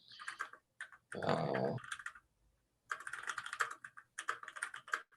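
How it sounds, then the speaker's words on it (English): Someone types on a computer keyboard close to a microphone during an online meeting, with quick bursts of key clicks separated by short pauses and a brief word spoken over it. "Whoever that's typing, could you mute yourself?"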